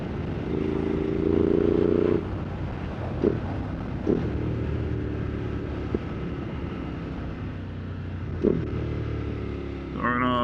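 Motorcycle exhaust while riding at a steady 60 mph, a continuous low rumble under heavy wind noise, with a few brief bumps and a clunk near the end.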